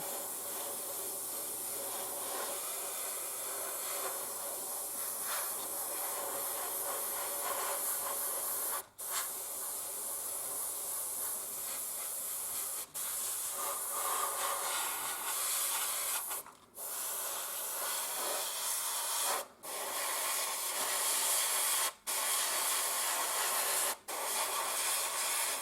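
An airbrush sprays paint onto the walls of a scale-0 DB MBW covered goods wagon model in a long, steady, close hiss, broken by a few brief pauses.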